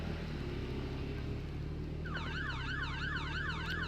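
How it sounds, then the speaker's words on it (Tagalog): A wailing siren rises in partway through, sweeping up and down repeatedly at a distance over steady car engine hum and road noise. "parang may narinig akong pulis"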